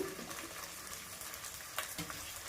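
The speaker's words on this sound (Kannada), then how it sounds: "ಕಟ್ ಮಾಡಿರೋ ಈರುಳ್ಳಿ 4, ಇದು ಚೆನ್ನಾಗಿ ಫ್ರೈ ಮಾಡಬೇಕು" Four chopped onions fry in a pan for a red chicken gravy, a steady close sizzle with brief stirring scrapes and a couple of louder clinks, no voices.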